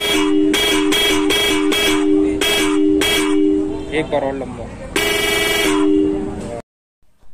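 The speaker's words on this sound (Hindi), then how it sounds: "तो चलिए अब इन दोनों हॉर्न्स की साउंड का आउटपुट आप सुने" Loud Mahindra Bolero Power Plus horn, a roots-type horn, honking in a series of short beeps, then a longer sustained blast, close by, with a brief spoken voice in between.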